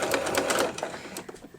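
Sewing machine running a back stitch along a placemat's existing stitch line, a steady whirring burst for most of the second and a half, then a few lighter, slower stitches at the end.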